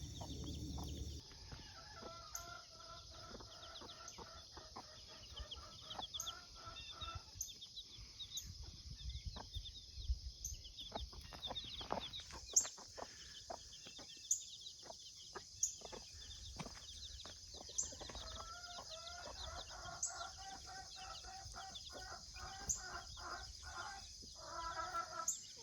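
Two broody backyard hens cluck softly and repeatedly as they tend their chicks, with scattered short calls spread across a quiet, steady outdoor background.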